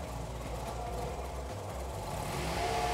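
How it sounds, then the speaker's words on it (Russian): A car engine running unevenly after being started during a diagnostic check, a steady close idle with irregular low rumbling and slight jerks, rising a little toward the end with no talk. "мотор работает не совсем стабильно. У него были толчки."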